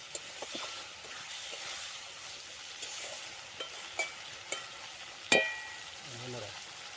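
Prawns frying in spice paste for a Bengali prawn malai curry, a steady soft sizzle with scattered clicks and stirring knocks, one louder scrape near the end, close and unbroken by talk.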